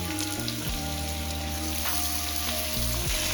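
Potatoes fry lightly in oil in a pan, giving a continuous soft sizzle and hiss, with low background hum and no talking.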